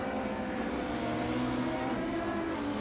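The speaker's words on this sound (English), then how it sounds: "There's Adam in his right-hand drive car." A right-hand drive race car at Nogaro circuit, its engine droning steadily at high revs, heard from inside the cockpit with a continuous buzzing tone.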